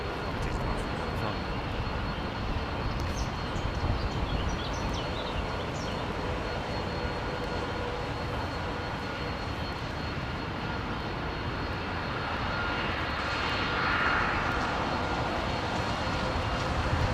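A steady jet roar comes from an airliner's Pratt & Whitney engines at London Heathrow Airport, a continuous broadband rumble that swells slightly near the end, with no talking.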